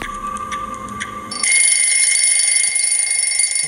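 Loud electronic alarm sensors go off in a video game, a steady shrill ringing tone that switches to a sustained high beeping alarm and holds continuously, close and dominant.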